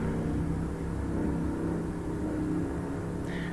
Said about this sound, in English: Sorry if you can hear the truck outside.